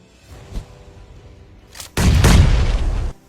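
A grenade blast in PUBG Mobile: a faint thump early on, then a loud, broad roaring burst that lasts about a second before cutting off, with no voices.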